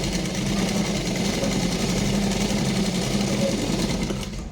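A sewing machine runs a steady line of stitching along a blouse sleeve with a lace edge, producing a continuous close mechanical whir with a fine rapid stitch rhythm that eases off at the end.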